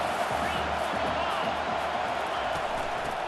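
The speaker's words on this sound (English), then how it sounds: "The crowd getting behind this defense as they try to get a stop in the red zone." Stadium crowd in the College Football 25 video game roars steadily as fans rally behind the defense in the red zone, a dense, continuous wash of cheering and noise filling the whole moment.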